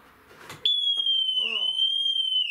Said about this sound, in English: Bloody alarm going off.